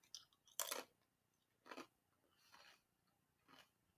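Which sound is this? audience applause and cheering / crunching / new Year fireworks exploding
crunching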